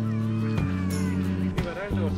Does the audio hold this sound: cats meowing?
yes